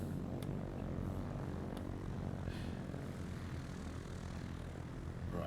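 Propellers of a BETA Technologies Alia 250 eVTOL aircraft powering up, a steady, loud broadband propeller drone with dense low rumble held for several seconds without pause, no voices present.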